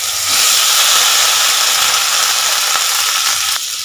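Long strips of ridge gourd hit hot oil already tempered with mustard seeds, dried red chillies and asafoetida, giving a loud, steady, close frying hiss that runs on without a break.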